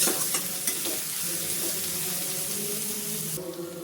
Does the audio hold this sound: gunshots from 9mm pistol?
no